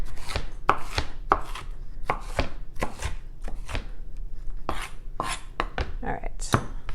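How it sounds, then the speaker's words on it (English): A knife chops an onion on a board in quick, uneven bursts of sharp, close taps that repeat throughout with no talking. "And then I'm gonna chop up my onion."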